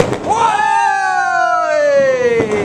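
A Chinese New Year firework launching with a rising, whistling screech that slowly falls in pitch, close and loud, framed by faint pops and crowd noise from neighbours.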